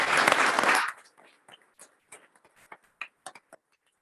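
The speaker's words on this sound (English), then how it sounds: "So let's give all of our all-state athletes a round of applause" Audience applause at a high school board of education meeting for all-state athletes, a loud dense burst of clapping that stops abruptly after about a second, followed by scattered faint claps and small noises.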